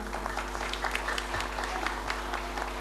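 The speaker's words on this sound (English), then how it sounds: "Applause please." Audience applause at an English-language wayang puppet performance in a government office hall, steady moderate clapping over a constant low hum, with faint voices mixed in.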